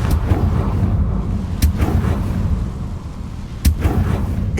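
Confringo fire spell explosions in the Hogwarts Legacy video game: sharp blasts at about 1.6 and 3.7 seconds over a steady low rumble of game ambience, with no talking.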